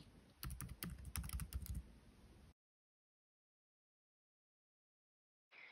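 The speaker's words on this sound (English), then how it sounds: "apply a small amount of pressure to the right hand side of the keycap," A MacBook Pro arrow keycap clicks back into place with a quick cluster of light, close plastic clicks, then a long silence and a soft return of room noise.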